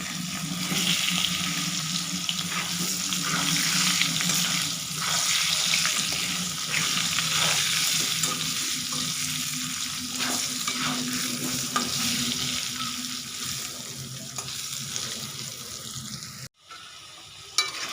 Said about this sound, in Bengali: মুরগির মাংসের আলুগুলো একটু হালকা ভেজে নেব